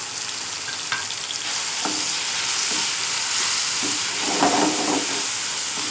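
Softened tomatoes and dry spices frying in a pan, a steady loud sizzle and hiss throughout with occasional soft stirring clicks and no talking.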